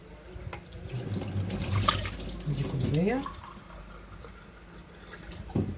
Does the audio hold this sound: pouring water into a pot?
yes